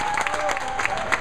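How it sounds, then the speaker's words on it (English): Scattered applause from a small crowd at a bowling alley, a short burst of light clapping heard at moderate distance over a hum of background noise. "Nice round of applause."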